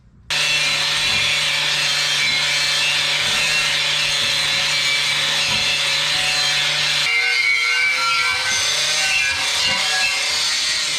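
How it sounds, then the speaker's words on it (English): A Sawzall reciprocating saw fitted with a new Imperial blade cuts through the metal of a 1983 Ford F150 truck bumper, giving a loud, steady rasping drone that holds for about ten seconds. "Used a brand new Imperial brand blade on the Sawzall and it just cut real nice."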